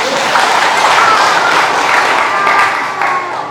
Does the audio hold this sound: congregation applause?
yes